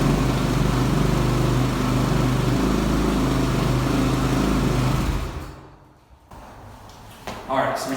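A 2012 Kawasaki KX450F dirt bike with a Yoshimura RS-4 exhaust idles loudly and steadily up close for about five seconds, then the engine cuts and fades to quiet with faint background noise.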